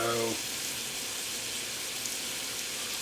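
Linguica sausage and diced onion fry in a pan with a steady, even sizzle throughout, after a brief voice at the very start.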